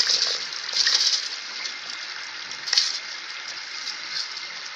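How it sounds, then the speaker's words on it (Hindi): Soaked rice tipped into a pot of boiling water gives a steady hissing, bubbling wash with a few brief louder splashy surges, close by and with no talk. "ये देखिए हम अब इसमें चावल मिला रहे हैं।"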